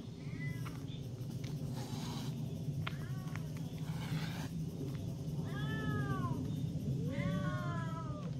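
Several cats meow in rising and falling calls against a constant background hum, some nearer and some farther off.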